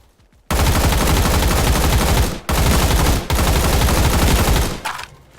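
Loud, sustained automatic gunfire from a CS:GO 2-style shooter game in Roblox, two long unbroken bursts with a brief gap, then a shorter third burst that cuts off abruptly.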